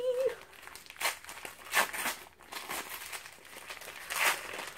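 Paper crinkles and tears in short bursts, close and fairly quiet, as a paper-wrapped item from a subscription box is handled and opened.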